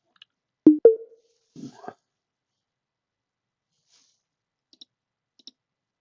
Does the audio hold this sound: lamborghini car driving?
no